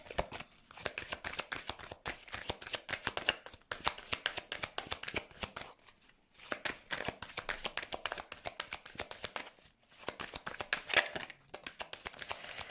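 Tarot cards are shuffled by hand for a reading, producing repeated crisp riffling bursts with brief pauses between rounds, close and fairly quiet, with no speech.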